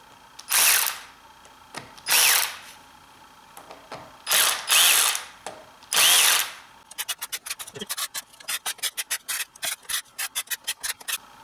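Eccentric shaft bolts on a BMW N20 valvetronic engine are loosened, first with several long separate rasping pulls, then with quick bursts of close ratchet clicking.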